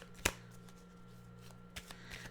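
A brief riffle of oracle cards being shuffled before an animal card is drawn, one sharp close burst followed by softer rustles against a quiet room hum.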